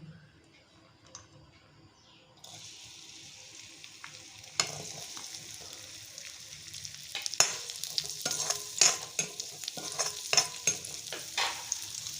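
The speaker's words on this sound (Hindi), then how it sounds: "तो काजू किशमिश के हमें फ्राई करमा" Cashews and raisins fry in ghee for kheer, a soft sizzle that grows steadily louder with light spoon stirring and ticking scrapes against the pan.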